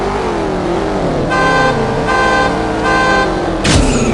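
A car engine revs loud and continuous during a ladder race in the video game CSR Racing, with three short high-pitched tones over it and a sharp burst near the end.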